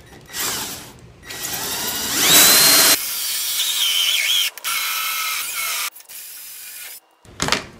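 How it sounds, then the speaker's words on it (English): A power drill bores through a hollow core wooden door in several whining bursts separated by short pauses, close and loud, with no talking. "I'm going to drill from the other so I don't have a big tear out"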